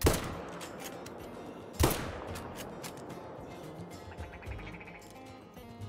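Rifle gunshots aimed at geese in the hunting video game Call of the Wild: two sharp reports about two seconds apart, the second clearer, against a faint outdoor ambience.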